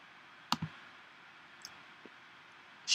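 A few crisp, quiet computer mouse clicks while navigating an online course page, a close double click followed by sparse isolated taps over a soft steady hiss.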